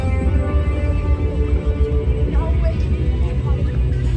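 A theme park helicopter theming effect plays in the background as a continuous low, throbbing rumble, fairly loud and steady, with faint talk mixed in.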